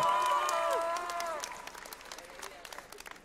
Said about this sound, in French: on l'applaudit bien fort, Nico Yazawa de Love Live